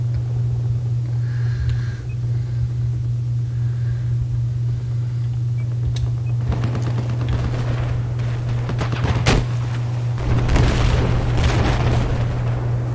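Battlefield 4 combat on Xbox Series X: a steady low hum underlies scattered gunfire bursts and explosion booms, with a sharp crack near the middle and louder blasts toward the end.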